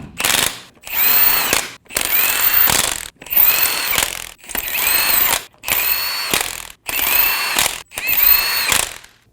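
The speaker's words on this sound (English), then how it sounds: "Snug the lug nuts down." A power tool tightens lug nuts on a Ram 2500 pickup wheel in eight separate loud whirring bursts, each roughly a second long, split by short pauses, close and clear with no talking.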